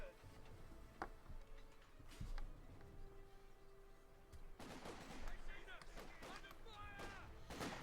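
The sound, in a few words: British mortar fire in Company of Heroes 2 (video game)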